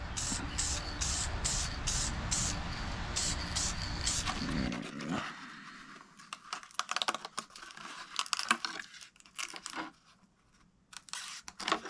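A spray can lays a light coat of lacquer paint in several short hissing bursts, close and steady for a few seconds, followed by quieter handling clicks and rustles.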